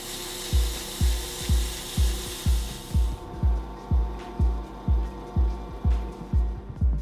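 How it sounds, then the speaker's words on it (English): Sandpaper rubs a metal bolt spinning in a lathe, making a steady run of rhythmic rasping strokes about twice a second over the motor's constant hum, fairly close and moderately loud. "I stuck it in the lathe and, using some sandpaper, I polished the high spots."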